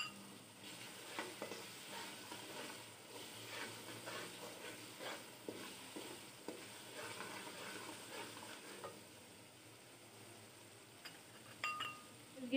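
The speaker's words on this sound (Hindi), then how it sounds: "ये मैंने अभी इसके अंदर मटर डाले हैं। अब हम मटर को थोड़ी देर के लिए इस मटीरियल में भूनते हैं।" Peas fry and are stirred in a pan with spices while making matar pulao, a soft steady sizzle broken by repeated scraping stirs, close and fairly quiet, with no talking.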